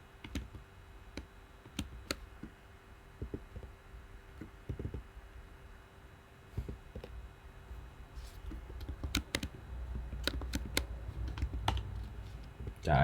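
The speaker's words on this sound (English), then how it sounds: "God, I'm so bad at typing." Computer keyboard being typed on at a desk while coding, scattered bursts of soft clicking keystrokes with short pauses, close and fairly quiet, no talk.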